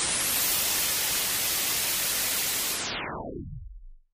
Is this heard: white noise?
yes